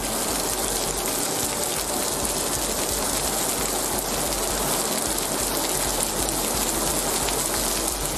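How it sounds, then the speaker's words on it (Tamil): Heavy rain driven by wind pours down in Arani, Tiruvannamalai district, Tamil Nadu, a dense, steady roar of downpour filling the whole stretch with no voices. "காற்றுடன் பெய்த கனமழையால் வெப்பம் தணிந்து குளிர்ச்சியான சூழல் நிலவியது"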